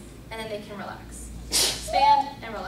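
A single sneeze in a classroom, a short loud burst bursting out over a lecturer's ongoing speech.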